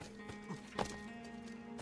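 Horse in the Assassin's Creed II video game: hoof clip-clop steps with a brief snort or whinny near the middle, close and moderately loud over a steady game music bed.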